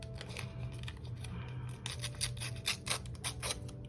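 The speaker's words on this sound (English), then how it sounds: "I'm going to get a longer piece here, and then maybe just rip it." Adhesive tape being handled and ripped off for a Sterling Ink A5 Common Planner page, a run of close, sharp crinkly tearing bursts over a steady low hum, with no talking.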